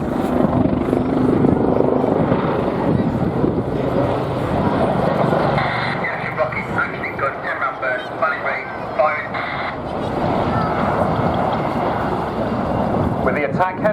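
Wildcat attack helicopter flying during a military air assault with Rangers, its rotor and engine noise a steady loud drone mixed with a narrator's voice over the top.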